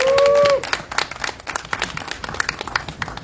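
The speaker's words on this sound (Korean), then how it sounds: "큰 박수로 앞으로 모시겠습니다." Scattered audience clapping at an outdoor candlelight protest rally, fairly faint and uneven, following a brief tone at the start.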